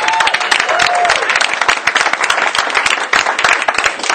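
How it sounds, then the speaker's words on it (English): An audience claps in sustained, dense applause at a birthday tribute, loud and continuous throughout with scattered sharp individual claps. "A round of applause for Dan."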